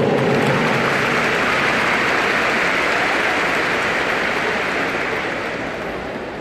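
A large audience at a military police school graduation ceremony in Manaus applauds to welcome the police commander, a loud, dense, continuous wash of clapping that holds steady and begins tapering off toward the end.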